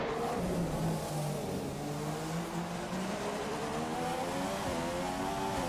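A Formula 1 race car in the video game F1 2015 pulls out of the pits at Belgium, its high-pitched engine rising steadily in pitch through the gears, loud and continuous with no talking.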